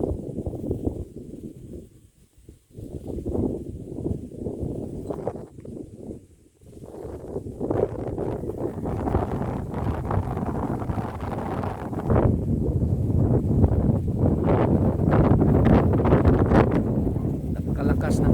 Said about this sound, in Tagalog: Napakalakas ng hangin dito guys.